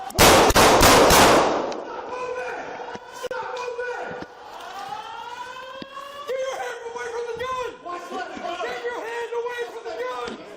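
Police gunfire during a room-by-room building search, caught on Nashville police body cam: a dense burst of rapid, loud shots at close range, followed by wailing sirens and people talking.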